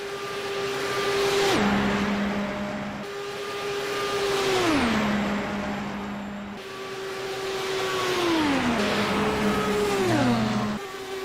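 An Indy race car at the Indy 500 whining at high engine pitch, then dropping sharply in tone as it slows toward the pits, repeated several times in smooth sweeping passes with steady loudness and no talk.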